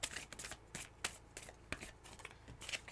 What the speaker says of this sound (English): So all that shuffling